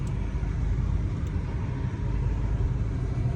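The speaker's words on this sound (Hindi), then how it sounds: "4 घंटे से हम लोग ट्रैफिक में फंसे हुए" Cars crawling bumper to bumper in a long jam that has gone on for hours, with several accidents along the road, give a steady low rumble of idling and creeping engines, continuous and fairly close, with no one speaking.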